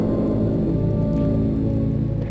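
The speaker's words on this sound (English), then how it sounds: "And there's a huge horn." A huge, deep horn blares continuously at a fireworks celebration in the Dreamfall video game, a loud, steady, full-bodied tone that holds for the whole stretch.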